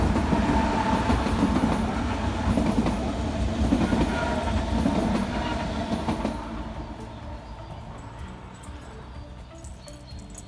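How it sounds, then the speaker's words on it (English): A train bound for Munich crosses a railway bridge in a park in Erding, Germany, its loud rumbling and wheel clatter filling the first half before fading away into quieter ambience. "So that train's going to Munich."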